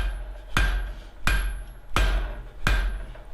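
Four evenly spaced, ringing hammer blows land on hot iron at an anvil while the end of a barn door hardware piece is drawn out. The strikes are close and loud, each followed by a short decaying ring.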